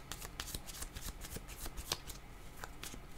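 Tarot cards shuffled by hand, a rapid run of soft riffling flicks and slaps, close and quiet, with no voice.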